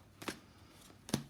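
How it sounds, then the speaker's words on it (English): Tarot cards are shuffled in two short, soft riffles about a second apart, close and quiet, with no talking. "let me shuffle till I find out how this is playing out in your"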